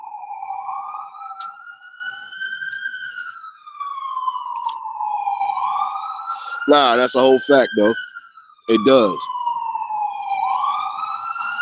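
An ambulance siren passing outside, a loud, slow wailing tone rising and falling over several cycles, with short rapid yelping bursts in the middle while someone talks briefly over it.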